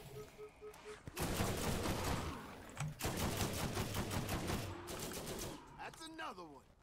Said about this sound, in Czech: Ta střílna střílí sama.